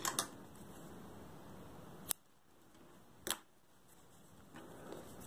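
Scissors snip crochet yarn on a Christmas cushion in two sharp, close, quiet cuts about a second apart, over faint background hiss, no voices.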